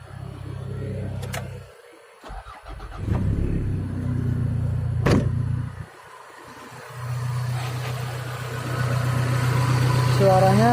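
A Toyota Corona GL 2000 sedan engine cranks and catches, then settles into a steady, smooth low idle with a brief rev, running continuously close by.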